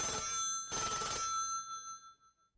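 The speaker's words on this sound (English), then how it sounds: "10 minutes later, the telephone rang." Old-fashioned telephone bell ringing in two bright, loud bursts separated by a short gap, the second ring fading away into silence.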